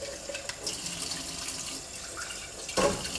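Kefir grains rinsed under a running kitchen tap, with a steady rush of water into a sink, brief splashes and a louder gush near the end.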